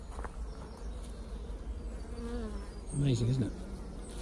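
Honeybees buzzing in an open hive during an inspection: a steady close swarm hum throughout that swells louder near the end, with brief speech over it.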